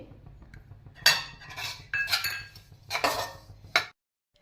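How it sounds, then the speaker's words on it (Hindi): Split mustard seeds and nigella seeds are stirred in a metal pan over a low flame, giving a series of scraping, clinking strokes of the spoon against the pan in irregular bursts, close and fairly loud, then a sudden stop. "हम राई की दाल का मॉइस्चर निकालने के लिए 1 मिनट तक इसे उलट पलट कर देंगे।"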